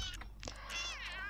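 A kitten meows in The Sims 2, its high, wavering calls drawn out over a steady low game hum, with brief background sounds mixed in.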